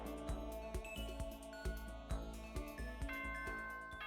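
Ringing, bell-like chime tones from the Danganronpa school announcement in the video game, a series of bright struck notes in a steady rhythm that ring out and overlap, heard alone with no talking.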